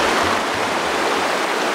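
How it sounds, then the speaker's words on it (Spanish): A clear mountain stream in the Sierra de Culiacán, Sinaloa, rushes steadily over rocks, a constant close broadband wash of flowing water with no talk. "este arroyo, podría ser un arroyo o un río, está muy bonito"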